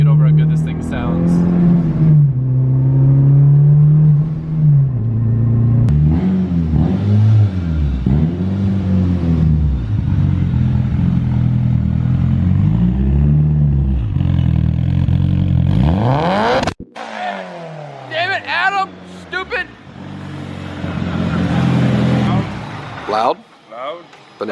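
A car engine revs loudly and steadily, its pitch rising and falling in repeated surges, then drops into a rougher idle with sharp throttle blips near the end.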